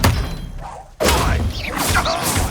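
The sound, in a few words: Expelliarmus spell impact in video game Hogwarts Legacy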